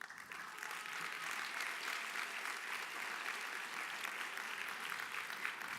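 An audience at a school winter orchestra concert applauds orchestra students, sustained even clapping filling the hall at moderate volume throughout.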